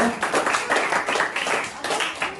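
A group of children at an online elementary church service claps together in a brief burst of fairly close, steady applause lasting a couple of seconds.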